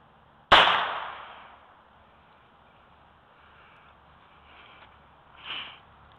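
A single loud, close gunshot from a .22LR revolver firing Federal bulk pack ammunition, a sharp crack with a decaying outdoor echo, followed by quiet and a faint shuffling noise a few seconds later.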